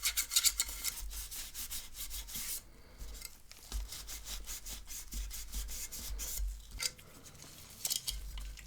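Dust being brushed from the cooling fan of an Xbox Series X console: steady close-up scratchy rubbing in repeated short strokes, continuous for several seconds with no talk.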